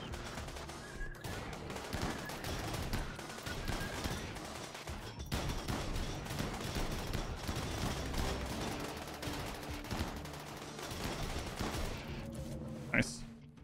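Rapid, sustained gunfire from a colony battle in the video game RimWorld, with dense overlapping shots crackling continuously for the whole stretch over a steady background bed, ending in a brief sharp burst.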